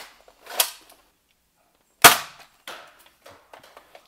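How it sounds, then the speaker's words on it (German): Three sharp snapping shots from a Nerf Rebelle Guardian Crossbow firing darts down a hallway, the first two loud and well spaced, the third softer, each followed by faint rattling. "Jetzt nochmal 3 Schuss Rebellendarts und 3 Schuss Elite-Darts zum Vergleich."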